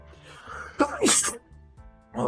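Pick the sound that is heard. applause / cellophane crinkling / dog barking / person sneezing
person sneezing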